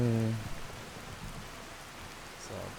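Rain falls in the video game Skyrim as a steady broadband hiss of drops, with a voice briefly heard at the start.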